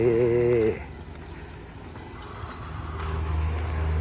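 A single-cab Mazda Fighter pickup truck engine idles steadily with a low rumble, briefly louder with a droning tone at the start, then settling into a steady running hum.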